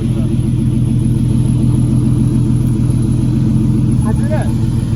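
A car engine idles steadily with a low, constant rumble throughout, loud and close, and a voice speaks briefly near the end.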